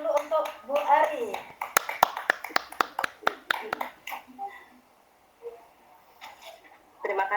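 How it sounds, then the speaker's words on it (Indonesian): Scattered applause for a teacher at an online education webinar, a brief run of sharp individual claps rather than a full crowd, with people talking before and after. "Kita kasih aplaus dulu untuk Bu Ari."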